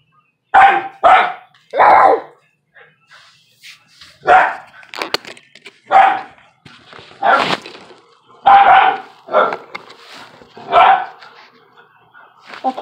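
A puppy barks loudly and repeatedly in short, uneven bursts, close up, with brief pauses between the yips and barks.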